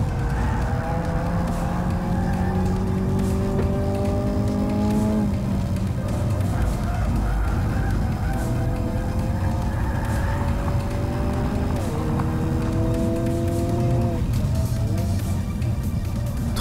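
A Hyundai Kona N is driven fast around a race track, its engine note climbing through the gears in repeated rising sweeps that drop sharply at each upshift, loud and continuous with faint tire noise.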